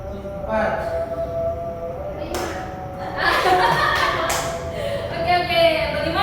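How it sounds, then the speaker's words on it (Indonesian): A classroom of students clap their hands together in scattered bursts, with thumps and bright chatter, loud and close in a small room. "Tepuk tangan semua."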